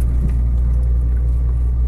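A vehicle on the potholed Rodoanel highway at São Borja, heard as a steady, loud low rumble of road and engine noise from inside, with no distinct individual jolts standing out.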